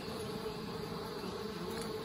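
A continuous near buzz of honeybees working in and out at the entrance of an Anel hive in hot weather, even and unbroken, with no talking.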